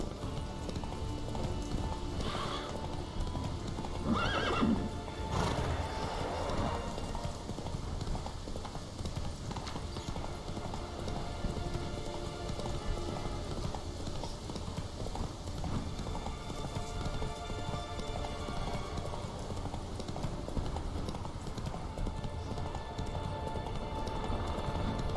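Hooves clip-clop steadily throughout as a horse runs in the Witcher 3 video game, with a brief whinny-like burst early on, all set against a constant ambient bed.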